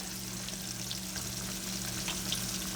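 Black drum fish sizzles and crackles steadily in a hot pan, a continuous close frying sound with a low background hum.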